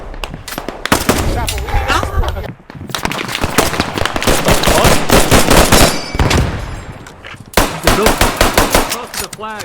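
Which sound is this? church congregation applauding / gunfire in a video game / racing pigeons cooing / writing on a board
gunfire in a video game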